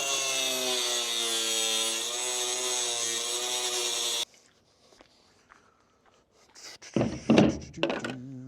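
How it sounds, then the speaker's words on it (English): A cutoff wheel cuts through bolts on a bus: a loud, steady high-pitched grinding whine for about four seconds stops abruptly, followed by a near-silent pause and then a few louder clunks and scrapes of handling. "I'm gonna be cutting it real quick with my wheel here, my cutoff wheel"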